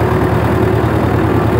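An old David Brown 990 tractor engine running at a steady idle, a loud, close, low throbbing chug with an even pulsing rhythm and no talk.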